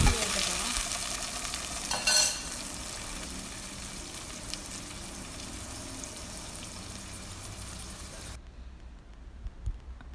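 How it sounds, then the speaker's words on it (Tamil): Garlic and small shallots sautéing in oil with fennel and dried red chillies for Chettinad pepper chicken, a steady hiss with a brief stirring scrape early on, cutting off near the end to a quiet room. "அதுக்கப்புறமா பூண்டையும் சின்ன வெங்காயத்தையும் போட்டு வதக்கலாம்"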